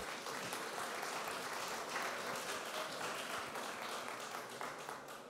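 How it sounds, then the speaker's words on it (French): A lecture audience applauds steadily at the end of a talk on architecture, with dense, even clapping from many hands that holds for several seconds and eases off slightly at the close. "je pense qu'on peut vous applaudir"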